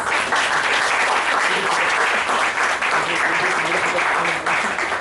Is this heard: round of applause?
yes